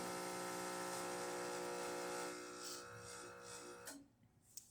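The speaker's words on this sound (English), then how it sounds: "now you can hear the pump filling" A Quickmill Anita espresso machine's pump fills with a steady mechanical buzzing hum, droning for a few seconds, then cuts off, leaving a faint click and quiet.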